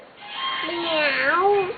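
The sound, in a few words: child imitating a cat's meow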